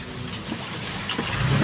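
Steady rain falling outdoors beside a catfish pond, a continuous even hiss and patter of water that stays moderately loud throughout with no voices.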